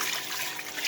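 Water for halon halwa is poured from a container, making a brief, steady hissing rush of liquid at moderate volume with no talk over it.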